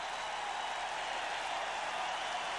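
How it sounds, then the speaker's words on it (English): A stadium crowd at an NFL football game between the St. Louis Cardinals and Tampa Bay Buccaneers roars and cheers after a touchdown, a steady, broad wash of noise from far off with no break. "This is the biggest cheer the Cardinals have got all year."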